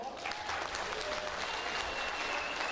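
Guests at a Kazakh wedding celebration clap together in steady, sustained applause that fills the room at an even level from start to finish.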